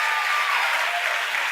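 A crowd gathered at SpaceX breaks into dense, steady applause with cheering after a satellite launch, a continuous loud wash of clapping with no pauses.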